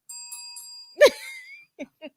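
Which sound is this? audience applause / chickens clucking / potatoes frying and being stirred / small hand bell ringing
small hand bell ringing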